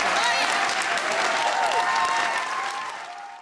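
A large audience applauds after the First Lady's farewell speech, a dense, loud, continuous wash of clapping and cheering that fades slightly at the end.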